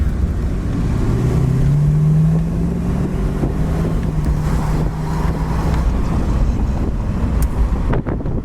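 A 1968 Ford Torino GT convertible drives down the road, its engine a steady low drone with rising tonal whine from the drivetrain and constant wind rush, close and loud throughout.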